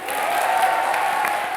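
A studio audience at a televised comedy show claps and cheers in a dense, steady burst of applause that holds at an even level for its short length.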